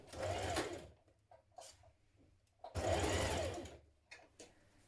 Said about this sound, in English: When you've pinned it all the way around, stitch it in place.